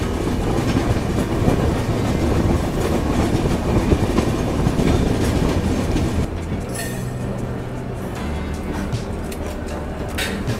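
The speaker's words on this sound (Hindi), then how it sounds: "हमारी ट्रेन में डीजल लोकोमोटिव इस ट्रेन की शोभा को बढ़ाते हुए" A diesel-hauled express passenger train on a journey in North East India rumbles steadily along the rails with rhythmic clatter, loud and close, the tone shifting and thinning about two-thirds through.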